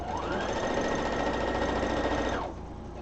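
A sewing machine runs steadily at close range with a loud, even mechanical whir for about two and a half seconds, fitted with a presser foot that may not be original to it, then cuts off to a quiet room hum.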